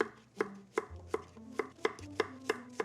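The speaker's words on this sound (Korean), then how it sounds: "큼직하게 썰어요." A knife chops zucchini into large chunks on a cutting board: about eight firm, evenly spaced thuds, close and clear. No talking.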